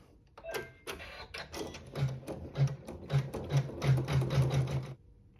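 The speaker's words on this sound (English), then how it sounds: "we'll sew our seam" A sewing machine stitches a seam through quilting fabric in a run of quick mechanical bursts, speeding into a rapid rattling stream before stopping.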